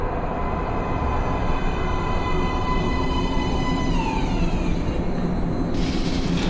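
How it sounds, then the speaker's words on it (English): A subway train in the video game Metro: Last Light rolls into a platform with a steady broadband rumble and rising, whining tones, loud and continuous throughout, ending in a brief hiss. "Please step away from the edge of the platform. Train coming in."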